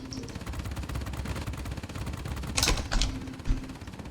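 Rapid aircraft gunfire from a Tupolev Tu-1 in the air-combat game World of Warplanes, a steady, dense rattle over engine drone, with a few louder bursts punching through near the end.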